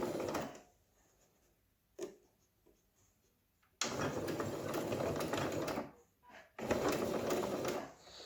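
A sewing machine stitches fabric for a cloth coffee filter in loud close bursts of rapid whirring, separated by short quiet pauses and a single click, with no speech.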